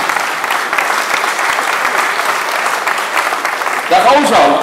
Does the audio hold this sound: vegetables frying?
no